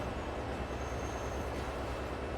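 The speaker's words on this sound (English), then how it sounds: "Another steel train." A steel train in the Transport Fever 2 video game rumbles past with a constant, dense rolling roar and faint wheel noise, heard alone without talk.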